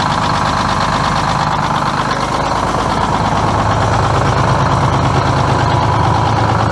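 A Detroit 6-71 diesel in an International truck idles steadily and loudly, its close, even, rapid knocking chug continuing without a break.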